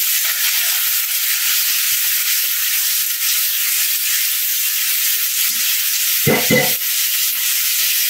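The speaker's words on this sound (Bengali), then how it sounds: "এখন আমি আলুগুলো ভেজে নিব।" Potato pieces fry in hot oil in a pan for dhaba-style dum aloo, giving a loud, steady sizzle throughout, with a brief low knock near the end.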